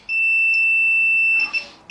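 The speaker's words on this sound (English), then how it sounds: "here's a machine that goes beep when you connect 2 parts together" A continuity tester on a guitar bench, used while fitting Fishman Fluence Classic humbuckers, gives one steady high electronic tone for most of a second and a half, then cuts off into a little handling noise.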